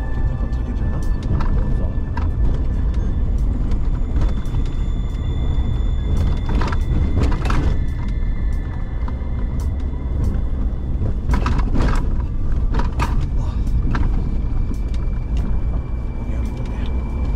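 An off-road vehicle grinds in four-low across rocky landslide terrain in Spiti Valley, a loud, steady engine drone with rattles and knocks from stones and the body throughout, under occasional voices.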